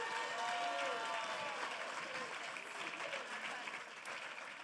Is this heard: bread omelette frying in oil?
no